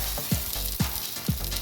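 Bologna frying in a pan alongside onions, giving a constant close sizzle with three soft, evenly spaced scraping stirs.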